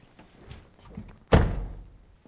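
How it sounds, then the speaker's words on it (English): A car door slams shut once after its window glass is adjusted, a single solid thunk at mid distance following a few faint taps and handling noises. "Now, close the door and check the adjustment."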